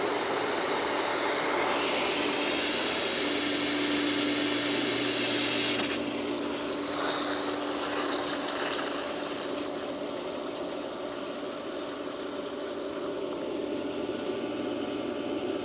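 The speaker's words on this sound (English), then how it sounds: "Open the bleeder to help the pump prime quicker." A new pool pump motor runs steadily while priming, a loud continuous whir and hiss with a sustained hum; partway through the hissing drops off sharply and the motor drone carries on, with no talk.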